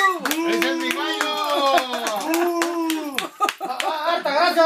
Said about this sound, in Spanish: Un aplauso para el señor Santibáñez